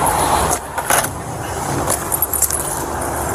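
Car keys jangle in several quick metallic bursts close by, with a vehicle idling in the background during a roadside traffic stop.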